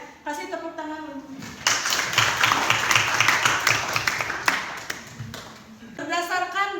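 A class applauds during a practice lesson on Islamic preaching, a burst of clapping lasting several seconds between stretches of a speaker's voice before and after.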